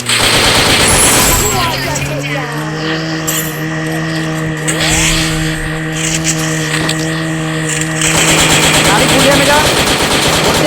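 Rapid bursts of automatic gunfire in a squad-versus-squad battle royale video game rattle over a droning engine hum while people talk excitedly over the action.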